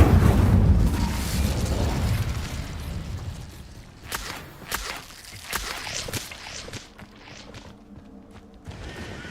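The Incendio fire spell in Hogwarts Legacy bursts with a loud, booming whoosh, then crackles and fades into scattered pops and light footsteps.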